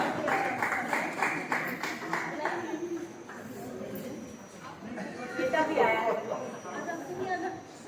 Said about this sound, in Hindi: जोरदार तालियों के साथ कृपया स्वागत कीजिए सभी रचनाकारों का।